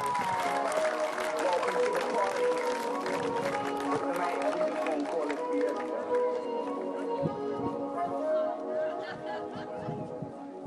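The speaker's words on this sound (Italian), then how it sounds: "Un applauso accoglie Raffaele Chierodolini" A crowd applauds at a cycling team's award ceremony as a race winner is welcomed, loud sustained clapping with music underneath that gradually thins and fades.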